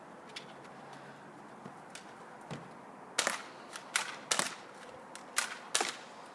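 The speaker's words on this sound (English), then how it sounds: "We're shooting the pistol and the rifle." Airsoft pistol and rifle fired on a tactical course: sparse light pops at first, then a quicker burst of sharp, snappy cracks close by, with no talking.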